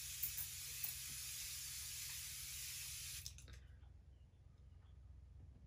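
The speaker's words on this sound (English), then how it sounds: "I'm gonna spray this spring water all over me" Spring water misted from a spray bottle onto a face, a steady close hiss lasting about three seconds before cutting off, followed by faint rustling.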